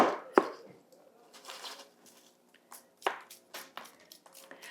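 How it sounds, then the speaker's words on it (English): Soil is scooped away from a tuberous begonia with a small tool, giving soft, scattered scraping and rustling strokes at close range, with one sharper knock near the start. "I'll just use these to kind of scoop the soil away from"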